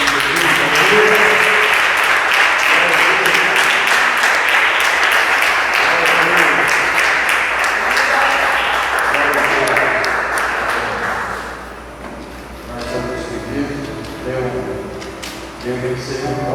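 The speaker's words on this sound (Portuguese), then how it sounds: "Vamos aplaudir o nome de Jesus." A church congregation at a worship service applauds loudly and steadily for several seconds, then the clapping fades out while music and voices carry on underneath.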